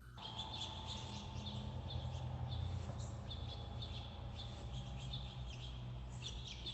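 Several birds chirp and tweet in quick repeated calls over a soft, steady background hum, fairly faint and slightly distant.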